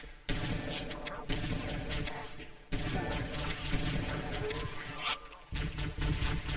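Shotgun blasts in Halo: Combat Evolved, several loud booming shots spread across a busy stretch of in-game gunfire and action noise.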